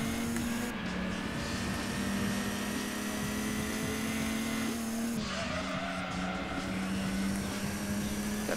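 Race cars in the Gran Turismo 2 video game, a steady droning engine hum with shifts in pitch around gear changes, moderately loud and continuous, with no talk.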